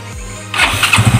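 A matic scooter's CVT engine, being checked for a knocking judder on initial throttle, catches and revs up in short pulsing bursts after a quiet idle, close and fairly loud with no speech.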